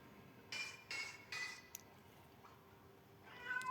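A cat meows inside a Roblox video game, with three short, quiet meows in quick succession and a softer cry near the end over a faint steady background hum.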